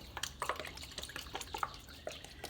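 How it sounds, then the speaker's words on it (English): Worcestershire sauce pours into a crock pot holding a pork butt roast, giving soft irregular dripping and splashing close by, faint and patchy. "So I'm going to go ahead and add some Worcestershire sauce."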